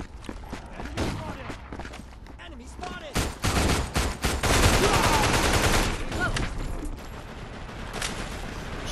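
Gunfire bursts from the PS5 zombie shooter Mega Zombie, rapid automatic volleys and shots crowding together, loudest around the middle of the clip, with no voices.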